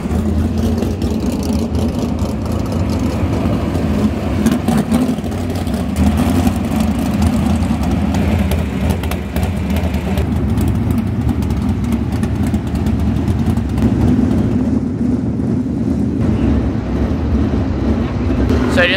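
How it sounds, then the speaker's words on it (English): A dirt track race car engine warms up through a heat cycle on a wet track at a raceway, a steady loud rumble that hovers near idle with small rises in revs for the whole stretch. "So I just did engine heat."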